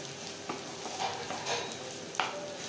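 Onions and tomatoes sautéing in a pan for a prawn roast, a soft continuous sizzle with a few scraping spatula strokes and a small clink, close and quiet.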